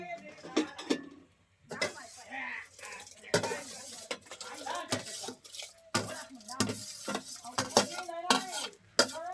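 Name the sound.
rice being added and stirred in boiling water pot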